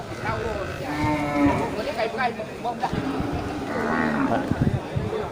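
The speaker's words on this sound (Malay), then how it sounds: "seperti kita lihat di depan kita ini tidak pernah sepi dari pengunjung untuk pasar hewan Grogol" Cattle at the busy Grogol animal market, with lowing and bleat-like calls rising over a crowd of people talking nearby.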